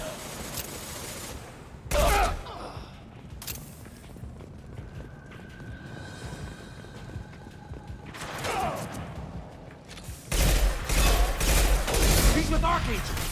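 Video game gunfire from Mass Effect 2 in a combat firefight, sharp bursts of shots around two seconds, eight to nine seconds and a heavier sustained volley from ten seconds, separated by quieter ambient stretches.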